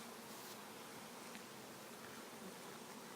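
A dense, steady buzz of many honeybees on a hive frame hums close by, continuous and even without pauses, at a low, soft level.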